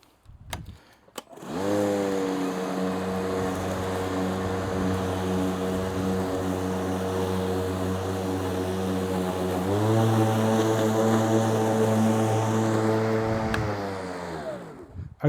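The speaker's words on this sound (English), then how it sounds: "you heard the mower kick up to higher RPMs" A Milwaukee lawn mower with a high lift blade mulching grass, its engine droning loud and steady close by, then rising to a higher pitch as it works through thicker grass before easing off.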